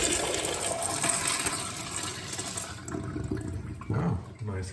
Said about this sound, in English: nice flush